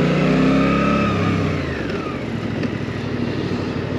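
Suzuki GSX 8S motorcycle accelerating hard with a loud, close engine note, then the revs drop away as it brakes to a stop, no talking.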